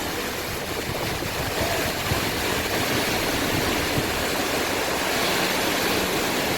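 A powerful waterfall in Ireland pours with a steady, dense roaring rush, loud and unbroken throughout, with no voices.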